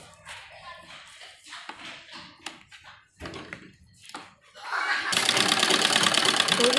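A sewing machine stitches a net blouse, starting after a few scattered handling taps and soft rustles, then running as a dense, continuous rapid whirr for the final couple of seconds.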